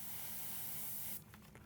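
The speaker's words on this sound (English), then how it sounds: "We're going to spray this just to the very tips of the flames." A paint airbrush or spray can sprays onto the flame tips of a painted miniature: one steady close hiss for about a second, then a stop followed by faint short puffs.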